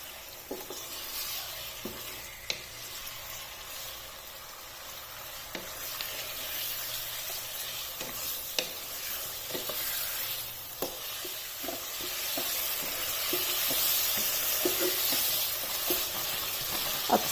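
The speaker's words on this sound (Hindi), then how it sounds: "अब चिकन का कलर चेंज होने तक ऑयल में से फ्राई कर लेना है।" Chicken pieces fry in half a cup of oil in a pan, a continuous bubbling sizzle punctuated by frequent clinks and scrapes of a stirring spoon, swelling louder toward the end; no talking.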